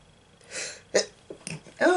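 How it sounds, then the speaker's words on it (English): A woman sneezes indoors beside an open window on a hot day, with a sharp inhale followed by a few quick bursts and a final loud sneeze, close and without speech. "And I'm going to sneeze again"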